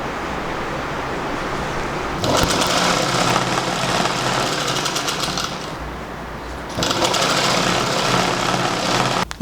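A sewing machine stitching fabric for a baby frock runs in two loud, rapid mechanical bursts separated by a short pause, with a quiet hum between them.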